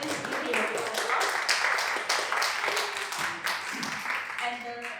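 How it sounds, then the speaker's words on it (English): Applause from an audience at a blockchain training talk carries on as a steady, fairly close patter of many hands, with some voices mixed in toward the end. "Please give me a round of applause."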